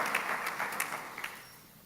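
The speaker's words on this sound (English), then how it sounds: "let's give them all a round of applause at this point in time" An audience claps steadily, a dense wash of applause with no voices over it.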